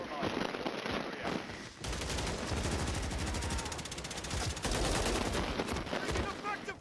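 Dense gunfire crackles in a multiplayer shooter game on a hardpoint map: rapid automatic bursts sound nearly continuously, with short breaks and scattered single shots.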